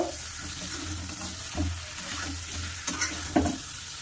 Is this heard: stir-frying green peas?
yes